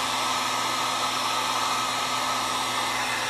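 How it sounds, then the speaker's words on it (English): A heat gun blows hard and steadily, shrinking heat shrink tubing over a wire splice. It makes a loud, continuous rushing whir with no pauses and no voices. "And now comes the heat gun."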